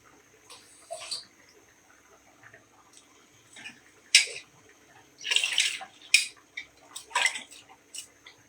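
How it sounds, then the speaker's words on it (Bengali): Rice-washing water is poured into a cooking pot holding washed rice, giving sparse splashes and drips that gather into several louder splashing bursts in an otherwise quiet kitchen. "চালের পানিটা অ্যাড করতেছি।"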